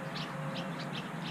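A pigeon cooing softly in a short series of repeated low calls, faint and fairly close.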